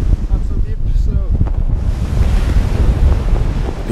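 Ocean waves and strong wind during a Force 10 storm at sea aboard a sailboat, a loud, continuous roar of surf and wind buffeting the microphone throughout.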